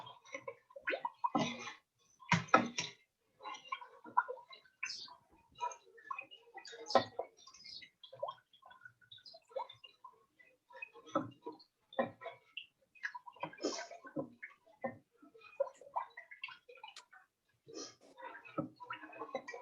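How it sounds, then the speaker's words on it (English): A wooden stirrer moves through sugar in a pot, giving quiet, scattered ticks, taps and scrapes in an irregular rhythm, close and faint, with gaps of near silence between strokes. "I'm going to stir it so that the sugar is dissolved"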